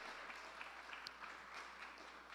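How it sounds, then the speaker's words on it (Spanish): Congregation in a church clapping together, a faint, distant wash of hands with a few sharper claps standing out, steady and soft throughout with a low background hum. "Démosle esas palmas al Señor."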